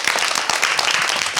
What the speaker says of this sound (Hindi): एक बार ताली बजाओ इनके लिए।